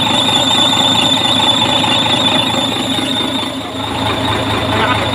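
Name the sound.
truck air conditioning compressor running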